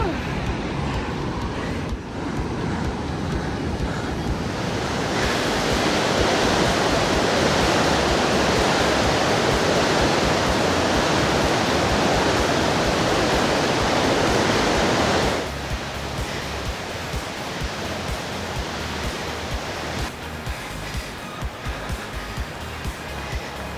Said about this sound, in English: I see a waterfall up there